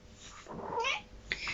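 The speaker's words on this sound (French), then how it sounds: "J'ai mon chat qui me parle." A pet cat named Lila gives a single drawn-out, rising and falling meow close by, followed by a shorter chirp, over a low room hum.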